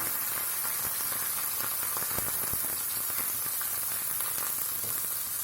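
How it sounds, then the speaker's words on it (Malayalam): Crushed bird's eye chili, garlic and shallots dropped into hot oil, giving a steady, close, even sizzle with occasional small pops and crackles, heard on its own. "കാന്താരി മുളകും വെളുത്തുള്ളിയും കൊച്ചുള്ളിയും കൂടി ചതച്ചത് എണ്ണയിലിട്ട് കൊടുക്കാം"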